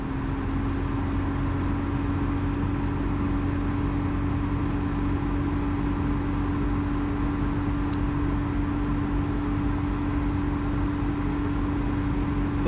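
The 1.8-litre engine of a 2002 Toyota Corolla with a lean fault is held at raised RPM, giving a loud, steady, unbroken drone with a constant hum and no talk.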